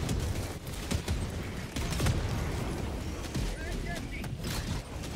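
Dense, continuous gunfire from the Helldivers 2 video game, with rapid shots layered over rumbling battle noise and a level 5 mission's explosions, close and loud throughout, while someone talks underneath.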